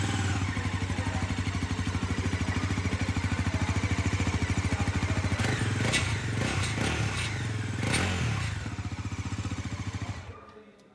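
A 2024 Bajaj Pulsar NS400Z motorcycle engine idles with a steady rapid throbbing, loud and close, with a few clattery revs before the sound cuts off abruptly near the end.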